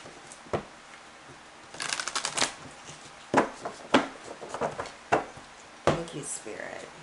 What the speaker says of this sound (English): give me just a moment to get your cards shuffled and laid out